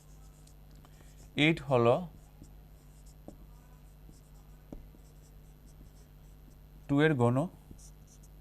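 Pen or chalk scratches out numbers during a Bengali Class VIII math lesson, two short bursts of close writing strokes separated by a pause, with a teacher speaking around them.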